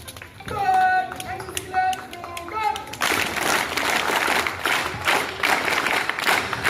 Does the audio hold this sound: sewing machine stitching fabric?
no